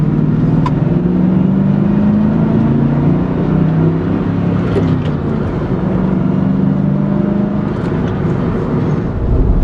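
A 1997 Mustang Cobra with a poor shifter drives at night, its engine droning loud and steady from inside the cabin, the low rumble rising and falling gently as it pulls.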